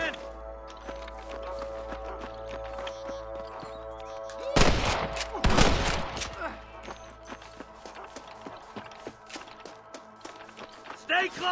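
Gunfire in the Western video game Red Dead Redemption, a short burst of loud shots in the middle over a musical score, with scattered fainter pops and footsteps afterward.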